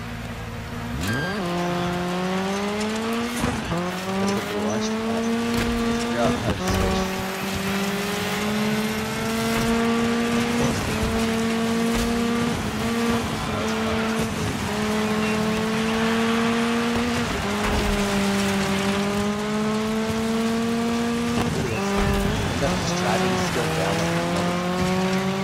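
Rally car in Dirt 5 racing the Henningsvaer, Norway reverse stage, its engine droning and revving steadily through repeated gear shifts and rises in pitch, loud and continuous over tire and gravel noise.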